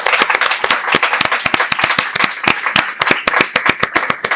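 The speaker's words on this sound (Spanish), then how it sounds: "Fuerte el aplauso para él." An audience at a lecture welcomes an actor guest with brisk applause. A small crowd claps loudly and evenly in a dense rhythm for several seconds, with sharp individual claps standing out close by.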